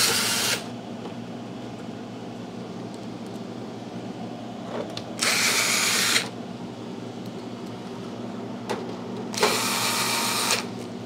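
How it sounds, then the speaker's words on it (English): A power drill drives screws into a Haier thermoelectric wine fridge in three loud whirring bursts, one short at the start and two about a second long later, with a steady low hum running between them. "Setting all the screws in lightly, and I'll tighten them all down."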